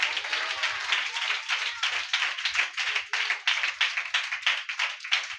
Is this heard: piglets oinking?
no